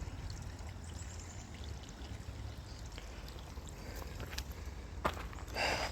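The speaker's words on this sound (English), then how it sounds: "Hear the water." Creek water runs steadily over rocks outdoors, a continuous broadband wash at moderate level, with a brief louder splash near the end.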